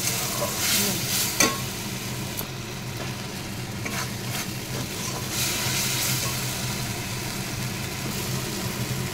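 A pan of Kashmiri chilli powder with poppy and mustard paste being stirred, a steady sizzle under scraping strokes, with a few sharper clinks of the utensil near the start.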